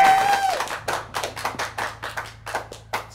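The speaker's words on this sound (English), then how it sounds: "Should we have a big applause?" A small group at a live music event in Surry Hills claps by hand, a dozen or so sharp, uneven claps close to the microphone following a brief exclamation.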